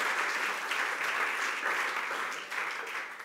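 Audience applause rises from a crowd gathered at a church service, dense steady clapping that carries on throughout at moderate volume with no talk over it.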